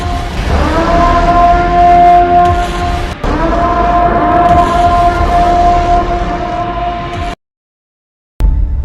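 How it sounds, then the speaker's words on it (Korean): A civil-defense siren wails across a city in the film The Purge, rising in pitch and then holding a loud, sustained tone with a short break before it stops abruptly. "이윽 곧 죽음의 축제를 알리는 사이렌이 도시의 정적을 깹니다."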